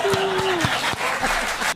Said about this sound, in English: Let's get a round of applause for Angie Beagleman.